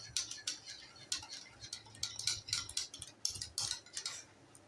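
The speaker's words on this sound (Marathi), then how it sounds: "छान फेटून घेऊया, मिक्स झालं पाहिजे" A whisk or spoon beats yogurt masala with ground cumin, pepper, fennel, salt and sugar in a bowl for bundi raita, giving quick, irregular metallic clinks and soft scraping, close and fairly quiet with no talk.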